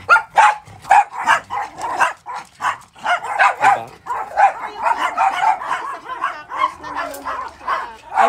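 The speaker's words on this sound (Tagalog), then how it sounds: "Ito mga aso naman." Several dogs bark repeatedly and loudly close by, a busy overlapping run of barks and yips with occasional whimpers continuing throughout.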